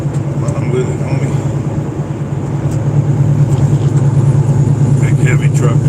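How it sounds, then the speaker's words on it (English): A big heavy truck rolls up a Detroit street, its deep engine rumble steady and loud throughout and building slightly toward the end, with general traffic noise around it. "Big heavy truck coming up."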